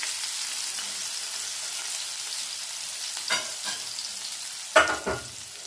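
Potatoes hit a hot pan for home fries, a steady bright sizzle with a couple of sharper crackling bursts and stirring scrapes near the end, close and with no talk.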